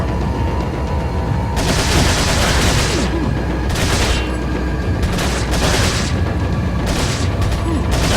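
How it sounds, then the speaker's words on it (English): The TMP submachine gun fires in Resident Evil 4 in loud, repeated rapid bursts separated by short pauses, with heavy booming impacts and a voice speaking over the action. "we're going to use the TMP to finish her off"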